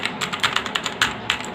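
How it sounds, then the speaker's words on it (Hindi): Rapid clicky keystrokes on a Redgear MK881 mechanical keyboard with blue switches, with sharp, closely spaced taps in an uneven typing rhythm, heard up close with no talking. "ये एक मैकेनिकल कीबोर्ड है। इसकी आवाज़ भी आप सुन सकते हैं।"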